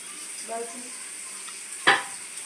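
Onions frying in a pan give a faint, steady sizzle, broken by a brief tonal squeak early on and one sharp scrape or clink partway through, close and without talk.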